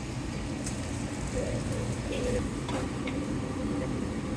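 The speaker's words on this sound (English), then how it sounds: "Unfortunately, it's raining right now." Rain falling steadily outdoors at Valley Forge in eastern Pennsylvania, a dense continuous patter with occasional louder drops, no one talking.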